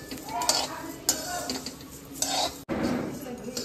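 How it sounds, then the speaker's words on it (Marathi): Sun-dried coriander seeds are roasted and stirred in a metal pan, with a scraping rattle and a few sharper clinks at a close, moderate level and no talk. "हे धने ते प्रॉपर सुकवले उन्हात आणि आता ते भाजताय"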